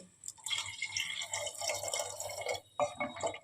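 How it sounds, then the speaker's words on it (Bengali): Water is poured into a pot for mutton paya soup, a close splashing trickle with a short pause before a final gush, fairly quiet and with no speech. "এবারে বন্ধুরা আমি জল দিয়ে দেবো একটু বেশি করে জলটা দিতে হবে"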